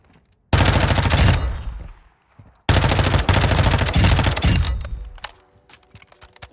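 Automatic rifle fire in Modern Warfare II, two long loud bursts of rapid shots, the second running about two seconds and trailing off into scattered fainter clicks, with no voices.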